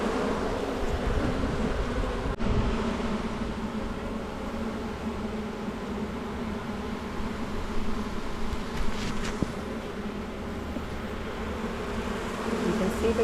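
Honeybees drone steadily in a dense, continuous buzz close around an opened beehive during requeening, with a brief sharp knock near the start and a few faint clicks later.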